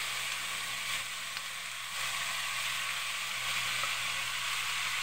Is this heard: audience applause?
no